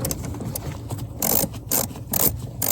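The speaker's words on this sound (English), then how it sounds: "And now we can get our ratchet. This is a 10 millimeter, by the way." A 10 mm ratchet cranks a bolt down during a throttle cable fix on a 1995-2001 Ford Explorer, giving close, rapid clicking in several short bursts over a low background hum.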